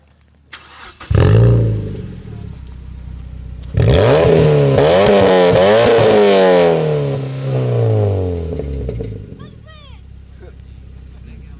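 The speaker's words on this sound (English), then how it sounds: "Everyone needs to rev their cars today." A Porsche GT3 sports car engine fires up and revs hard twice, rising sharply in pitch with a throaty exhaust roar, then settles back to a rumbling idle.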